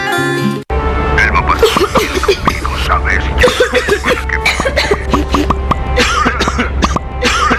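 Repeated coughing in a TV commercial for cough medicine, over a busy mix of voices and background sound, loud and close, with someone also talking.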